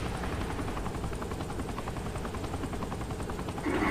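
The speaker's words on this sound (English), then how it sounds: "Does no one notice two giant purple attack helicopters?" Attack helicopters in the video game Saints Row: The Third give a continuous loud rotor drone with rapid chopping pulses, steady throughout and swelling slightly at the end, with no talk.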